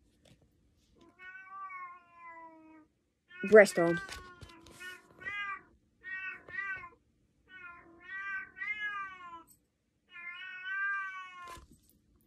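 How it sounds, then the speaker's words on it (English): A cat in heat meows repeatedly in long, drawn-out, wavering yowls, fairly close, with a brief spoken word breaking in partway through. "Sorry about the cat in the background"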